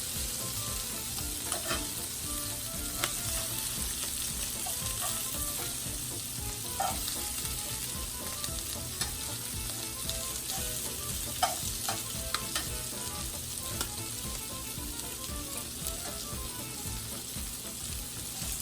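Steady, dense sizzling of unbattered, delicate fish frying in a pan, with occasional sharp pops and crackles, continuous and close with no talking.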